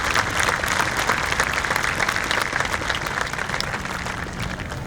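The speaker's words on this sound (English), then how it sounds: "Give the teachers a round of applause for all the work that they have done" Applause for teachers at a graduation ceremony, a dense, sustained clapping from a large audience that holds steady for several seconds and fades slightly toward the end.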